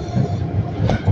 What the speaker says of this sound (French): Passage des rames à métro ligne 1,